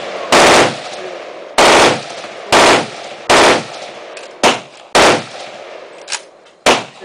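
AK-47 rifle fired outdoors in single and paired shots, seven loud sharp cracks spaced unevenly, each trailing a short echo.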